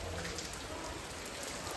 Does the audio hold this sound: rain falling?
yes